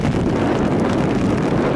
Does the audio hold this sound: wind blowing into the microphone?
yes